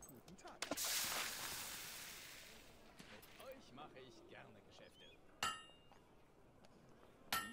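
Blacksmith hammering in the video game Fable 2: a noisy whoosh opens, followed by sparse, sharp metallic strikes with a short ringing tail, spaced a couple of seconds apart, over faint background murmur.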